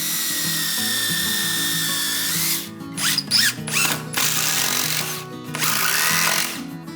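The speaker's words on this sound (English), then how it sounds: "Drill a pilot hole and secure it with long screws." A loud power drill whines steadily, then bites into wood with uneven bursts and brief pauses while drilling a pilot hole, before spinning up again, close and dominant.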